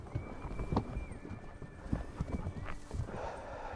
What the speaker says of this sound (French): Une jument seule là, à pas de poulain